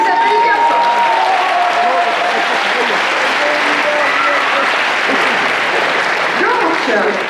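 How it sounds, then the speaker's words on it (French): A large audience applauds loudly at a Sunday cosplay contest at the Polymanga 2014 convention, steady dense clapping filling the whole stretch, with crowd voices and shouts mixed in underneath. "On les applaudit bien fort."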